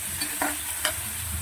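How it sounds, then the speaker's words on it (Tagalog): Tomatoes sauté in market-bought cooking oil in a home kitchen pan, a steady low sizzle with two brief scraping stirs, close by and with no voices. "Kumukulo na mga ka-driver yung ating niluluto na ginisa"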